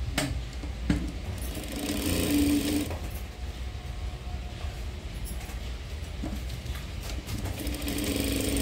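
A sewing machine runs in a steady continuous whir while stitching the joints of cross pieces for a boat neck paithani saree blouse, with a brief pause and slight change in pitch partway, no talking over it.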